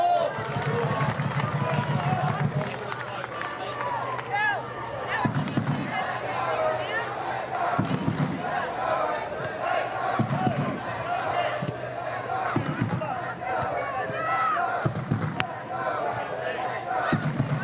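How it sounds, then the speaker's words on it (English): A football crowd at an A-League match between Western United and Newcastle Jets roars and urges its team on, a broad, steady stadium din heard beneath continuous commentary. "Crowd urging their team on"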